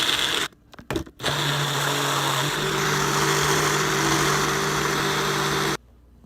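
A blender motor runs while mixing strawberry pineapple Dole Whip, a loud steady whine after a few short stop-start bursts, droning on evenly and then cutting off abruptly.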